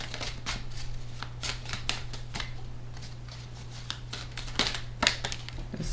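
Oracle cards being shuffled and laid out on a surface, quick crisp papery flicks and snaps in irregular bursts, close and fairly quiet, with no talk.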